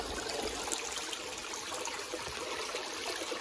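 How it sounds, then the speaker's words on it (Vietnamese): A low dry-season mountain stream trickles over rocks in the forest, a soft, steady wash of running water with no voices. "con suối nó chạy xuống kia."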